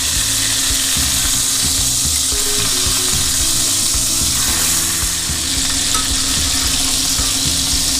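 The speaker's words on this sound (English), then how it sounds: "Now that's the sear I'm looking for. It is nice and dark and crusty." Pork sears in a hot pan with a loud, dense, continuous sizzle that stays close and steady throughout, with no voices.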